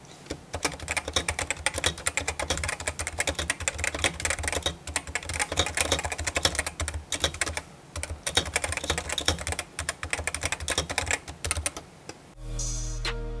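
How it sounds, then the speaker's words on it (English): Steady, close typing on a Topre Realforce RGB keyboard, a dense run of soft, muted keystrokes with brief pauses, ending abruptly. "let's go ahead and actually give you a bit of a listen to how the keys sound and do a typing test"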